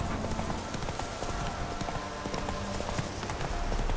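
Horse hooves galloping hard across terrain in the video game Witcher 3, a steady rapid clip-clop rhythm, loud and close under a dense wash of game sound.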